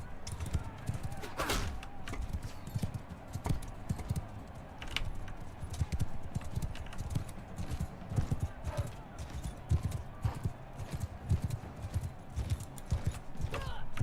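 Horse hooves gallop in the video game Mount and Blade Bannerlord, a dense, fast clip-clop rhythm running steadily throughout at moderate loudness, with scattered game impacts over the top.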